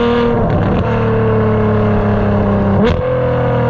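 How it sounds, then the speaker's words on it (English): Ferrari F12 with a 6.3-litre naturally aspirated V12, seven-speed dual-clutch gearbox and Armytrix exhaust, loud and close, holding a steady drone before a quick blip and pitch change as it downshifts. "Oh, those downshifts are crisp."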